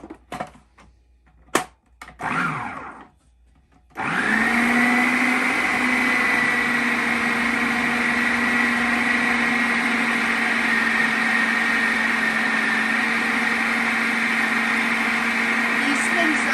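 After a few seconds of clatter as the lid goes on, a blender roars to life mixing homemade Bisquick baking mix, a loud, steady motor whine holding constant to the end.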